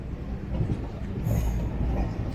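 The 12081 Kannur–Thiruvananthapuram train, with new LHB sleeper and AC 3-tier coaches, rolls steadily on the rails, a continuous low rumble with faint wheel noise and no break in the sound.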